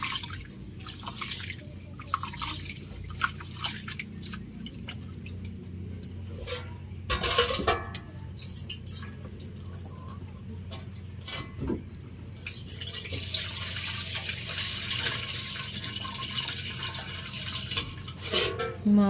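Rice is washed by hand in water in a pot at home while rain falls outside, with faint sloshing, dripping and stirring and a few sharper splashes. The sounds are quiet and uneven, and a soft hiss of rain rises in the latter half.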